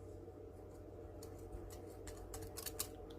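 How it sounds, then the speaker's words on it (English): Quiet, crisp snips of scissors cutting paper, a few quick cuts clustered toward the end over a low steady hum. "If my scissors will work, there we go."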